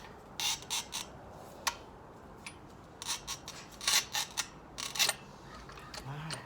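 A tile cutter scores ceramic tile along a pencil mark, giving short bright scraping strokes in uneven bursts, close up and with no talking.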